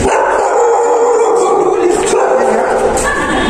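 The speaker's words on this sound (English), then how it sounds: "this is the dog which is barking" A dog in a residential apartment parking area barks and howls repeatedly, loud and fairly close, with a continuous yelping rhythm filling the moment.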